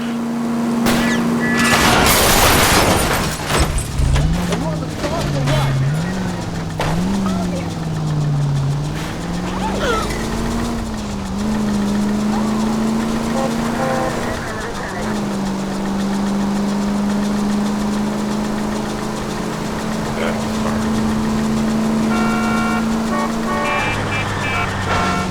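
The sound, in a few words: car chase engine noise in a video game (L.A. Noire)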